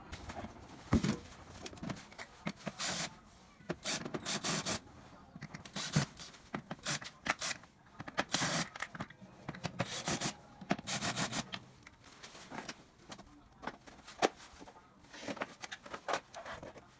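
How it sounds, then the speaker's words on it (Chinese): Audio speaker casing being taken apart for inspection, with irregular close rubbing, scraping and handling noises in short bursts, fairly quiet overall. "我们把它拆开检查一下，看看是什么问题"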